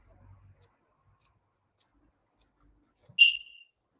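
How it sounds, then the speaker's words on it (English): A single crisp snip of scissors cutting hair freehand near the end, preceded by a few faint, sparse clicks in near silence. "So just resting my scissors on my fingers"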